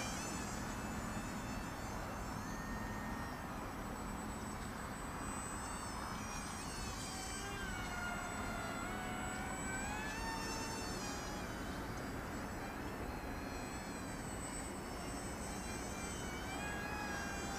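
A small Z51 Predator beginner RC airplane's electric motor buzzes in flight, a thin, whining drone holding steady for the whole stretch, with pitch wavering up and down as the throttle changes and the plane moves about.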